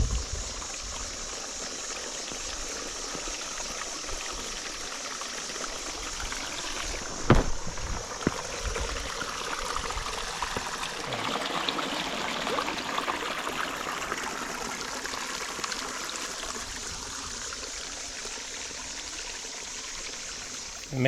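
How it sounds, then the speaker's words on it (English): A small waterfall on an island hiking trail sends a steady rush of flowing water from a short distance, with a brief thump around the middle and faint outdoor movement over the continuous wash. "There's a little waterfall down there."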